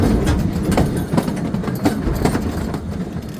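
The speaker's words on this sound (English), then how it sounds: "That's our sister train." A new three-year-old all-electric park train, made in the United States, runs along outdoor tracks with a steady rumble and repeated clicks from its wheels passing close by, with no voices over it.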